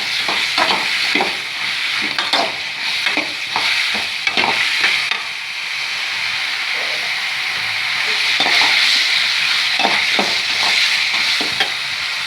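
Masala sizzling steadily in a pan at a broad, constant level, with repeated scraping strokes of a spoon stirring it throughout; no one speaks.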